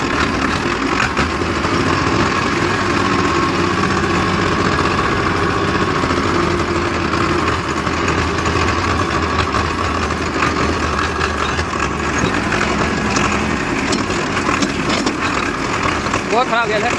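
A Powertrac 055 tractor engine idles steadily on a farm outing to fetch fodder for cows and buffaloes, a constant low rumble running throughout, close and loud, with people talking over it.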